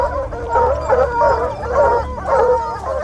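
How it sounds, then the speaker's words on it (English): A pack of hunting dogs barks and howls while chasing a bear, in repeated rising and falling bursts of bays and yips heard from a short distance, with no talking. "hunting dogs will immediately start barking and giving chase"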